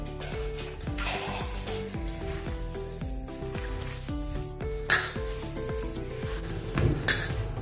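A potato and daliya tikki mixture being mixed by hand in a bowl, with rhythmic scraping and soft clinks of a utensil against the bowl and a couple of sharper knocks near the end, over faint background music.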